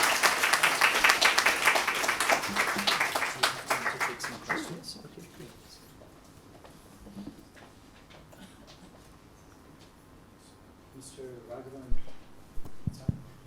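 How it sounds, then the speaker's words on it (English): Audience applause follows a lecture by Vikram Raghavan on America's influences on the making of India's Constitution. Dense, loud clapping fills the first few seconds, then thins and fades into a quiet room with faint voices and scattered noises. "Let's give him another warm round of applause."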